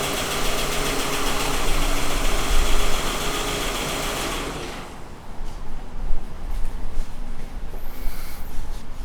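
A four-cylinder car engine idles with a steady, rough, close rumble during injector timing diagnosis using the cam and crank position sensors, then cuts off midway, leaving a quieter background.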